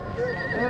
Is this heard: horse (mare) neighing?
yes